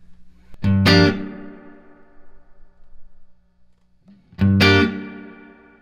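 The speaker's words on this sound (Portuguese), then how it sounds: "A reverberação fica um pouco mais fechada assim." Electric guitar through a King Pedals Genesis reverb pedal with the filter turned down, two strummed chords a few seconds apart, each ringing out and decaying into a darker, muffled reverb tail.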